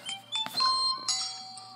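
A doorbell rings in the SpongeBob Moves In video game, giving a bright electronic ding-dong chime that rings out clearly over soft game background music.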